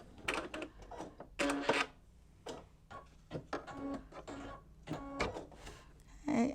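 An embroidery sewing machine stitching back a few stitches on an in-the-hoop mug rug clatters in short mechanical bursts with ticking pauses between them, close and fairly quiet.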